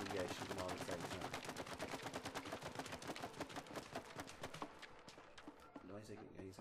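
Rapid, evenly spaced shots ring out from a cartoonish weapon in the video game It Takes Two as a player fires at targets. The steady rhythm continues for several seconds before thinning out near the end, with voices under the shooting.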